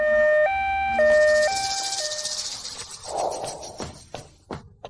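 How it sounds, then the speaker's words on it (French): Ambulance siren wailing in a two-tone pattern, loud and close at first, then breaking off into scattered knocks and rustling. "L'ambulance arrive."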